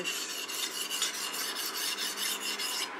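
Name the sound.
sashimi knife blade sharpened on a very fine whetstone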